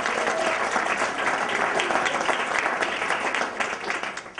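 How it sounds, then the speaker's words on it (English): Steady audience applause at an evening presentation welcoming guest speakers, a dense wash of many hands clapping at even loudness throughout, with no voices standing out. "So give a round of applause for both of them."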